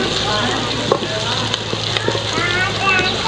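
Onions sizzle and brown in a pan over an outdoor cooking fire in a village setting, with a steady close crackle of frying broken by occasional stirring clinks.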